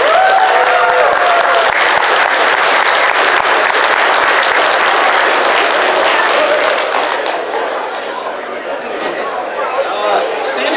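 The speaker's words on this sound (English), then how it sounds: "Let's give a big round of applause to Mr." A convention audience applauds a guest with loud, dense clapping that holds steady and then eases slightly toward the end, with crowd chatter and voices mixed through it.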